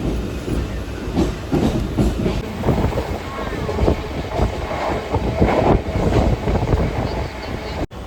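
Rattling clatter and rumble from inside a moving suburban local train carriage from Badlapur towards Kalyan, loud and continuous with wind buffeting, ending in a sharp knock.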